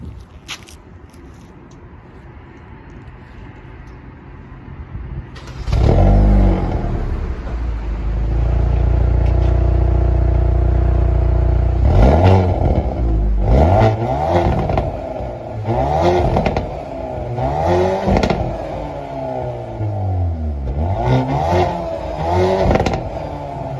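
A 2021 Hyundai Veloster N engine cranks and fires up, settles into a loud idle, then revs sharply several times in quick bursts, close by.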